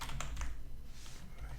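Typing on a computer keyboard, a quick run of close key clicks and taps at a steady pace that thins out toward the end, with no words spoken.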